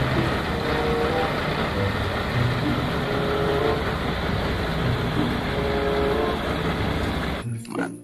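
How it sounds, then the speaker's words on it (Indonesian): A cement mixer truck rumbles steadily and loudly nearby, its heavy engine drone holding for several seconds before cutting off abruptly at the end. "mobil truk molen"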